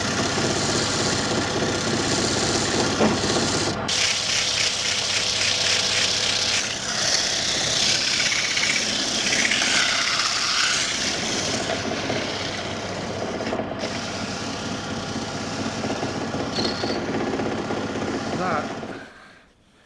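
A lathe spins with a steady whirring drone while sandpaper hisses against a turning firewood kitchen utensil in long passes, close up, with brief pauses and talk.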